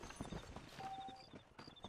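Horse hooves clip-clopping in Red Dead Redemption, a faint quick patter of hoofbeats with soft game ambience and a brief tonal whistle in the background.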